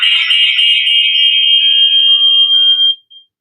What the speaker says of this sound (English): That's my phone. Somebody trying to call me.